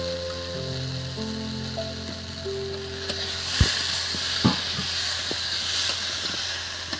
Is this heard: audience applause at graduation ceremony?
no